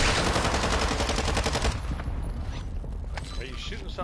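Video game gunfire: a loud, rapid stream of automatic shots that fills the first second and a half, then gives way to scattered quieter bangs and game noise, with a voice talking over it.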